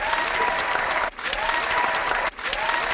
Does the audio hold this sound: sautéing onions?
no